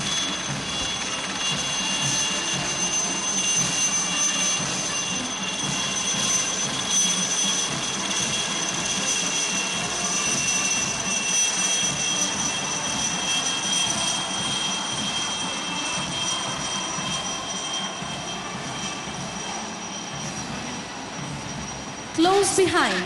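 Chetak lightweight multi-role helicopters of the Indian Navy fly in formation over the Gateway of India during the Navy Day Beating Retreat ceremony, a steady loud engine and rotor roar sustained throughout with a faint sharp whine on top.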